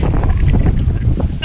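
A sailboat moving under sail with the headsail about half out and one reef in the main, making about 6 knots, giving a loud steady rush of wind and water with buffeting gusts across the microphone, no talking.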